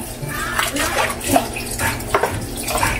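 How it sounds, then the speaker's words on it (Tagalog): Water pours into a cooking pot in a home kitchen, a splashing, gurgling flow with occasional clanks of metal cookware, heard up close while someone talks over it. "Lagyan na natin ng tubig"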